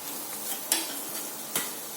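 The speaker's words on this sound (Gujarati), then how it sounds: "ફરીથી સતત હલાવતા રહી અને આપણે પકાવી લેવાનું છે" A spoon stirs green turmeric curry cooking in a pan over a soft, steady sizzle, with two distinct scraping knocks against the pan.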